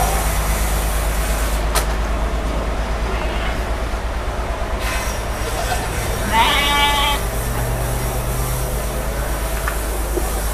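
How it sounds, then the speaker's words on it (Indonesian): A goat bleats once, brief and fairly close, at a goat farm in Central Java where goats are bathed in turns, over steady low rumbling background noise and murmuring voices. "Kambing di sini terawat, kambingnya dicuci semua nih, yang kotor-kotor."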